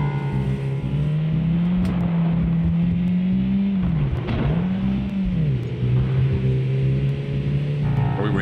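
Engine of a pursuing car droning steadily alongside in the California Driving Simulator video game, a loud sustained hum that swoops in pitch around the middle as it revs and eases, with no talk over it.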